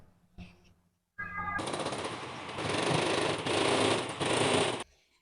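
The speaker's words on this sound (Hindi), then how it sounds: "अब मैं इस अस्तर को धोती के साथ कैसे सिलाई करूंगी वो दिखाऊंगी" Sewing machine stitching a lining onto a dhoti, running in one loud continuous whirring stretch for several seconds after a couple of short bumps and pauses, close up.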